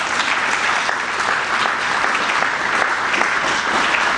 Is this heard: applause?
yes